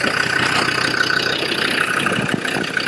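A Land Rover Discovery 2 engine idles close by, a steady, even rumble with a light mechanical rattle that holds constant throughout.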